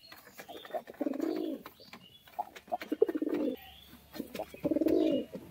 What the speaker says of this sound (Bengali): পায়রা দুটো দেখুন বন্ধুরা, একজোড়া কাঠলাল দেশি গিরিবাজ, মুর্শিদাবাদী ব্লাড লাইনের